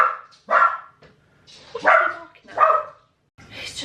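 A dog in a home garden barks at a cat, giving four sharp, fairly loud barks in an uneven rhythm, close to the listener and with no talk over them.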